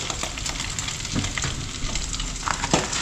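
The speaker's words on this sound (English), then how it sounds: "And the ugali is boiling." Ugali boiling in a pot in a small home kitchen in Mombasa, heard as a steady bubbling, sizzling hiss with occasional stirring scrapes, close by and fairly loud for the full three seconds.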